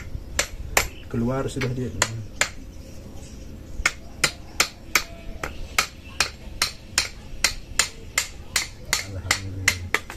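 Hammer blows on a motorcycle front shock part, a Grand fork tube being worked for bearing fitting: a long series of sharp metallic strikes at a steady, fairly fast rhythm, close and loud, with brief talk near the start.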